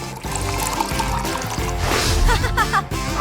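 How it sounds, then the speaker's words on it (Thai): Water pours into a small bear-shaped bottle during a cooking challenge game, a steady trickling pour with faint splashing under background music and brief voices. "เป็นขวดรูปหมี เทน้ำลงไปเลย"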